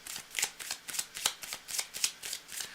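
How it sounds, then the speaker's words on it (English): A tarot card deck is shuffled by hand, with rapid riffling bursts repeating in an even rhythm, close and crisp with no speech. "I got to clean this up, shuffle up the deck"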